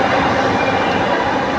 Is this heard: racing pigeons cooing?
no